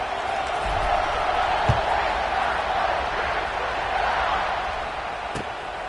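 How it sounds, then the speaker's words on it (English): A football stadium crowd roars steadily before kickoff, a broad, loud wash of cheering that holds throughout with no single voices standing out. "and this crowd now ready to get behind them"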